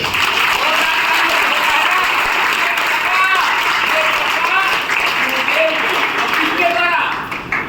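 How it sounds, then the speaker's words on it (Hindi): Devotees at a religious gathering honoring their guru clap in loud, dense, sustained applause from a crowd, with someone speaking over it through a microphone. "ताली बजा के बताइए।"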